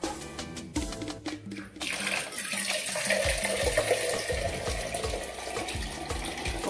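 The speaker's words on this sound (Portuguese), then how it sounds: "agora eu vou colocar água aqui" Water runs into a pan for a water bath while making a wheat pudding, a steady close pouring gush, preceded by a few clinks of handling.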